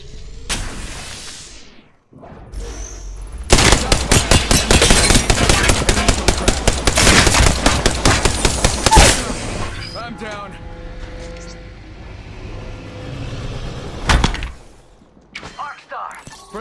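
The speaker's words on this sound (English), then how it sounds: "Shots fired and they're hitting me." Rapid automatic gunfire from the video game Apex Legends rattles in a dense, loud burst lasting several seconds, followed by scattered shots and game effects.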